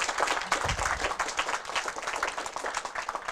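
A crowd applauds at a Senate campaign announcement rally, with sustained dense clapping that stays loud and even throughout, close and enthusiastic.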